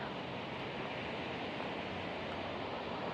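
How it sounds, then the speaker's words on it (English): Waterfalls at a boat launch in Vergennes, Vermont, roaring as a steady, unbroken broadband rush with no breaks or speech over it. "this is where I will be spending the night, listening to the waterfalls all night long."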